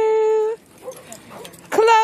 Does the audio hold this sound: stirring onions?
no